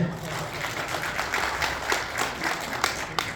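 Applause at an award ceremony for a singer, a large audience clapping continuously at moderate distance with a few louder sharp claps near the end, faint voices mixed underneath.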